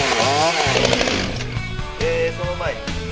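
A Kyoritsu CSE3501 chainsaw with a two-stroke, four-port engine fires up and runs close by with a loud, buzzing, high-pitched drone that wavers in speed.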